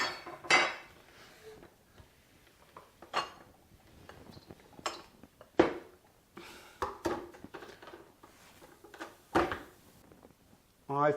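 Kitchen clatter of a blender being set up, with sharp clinks and knocks of dishes, utensils and parts, scattered irregular bursts over quiet room tone.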